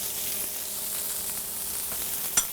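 Garlic sizzling in olive oil in a frying pan during a beef and snap pea stir fry, a soft, even frying hiss with a sharp clink of the utensil near the end.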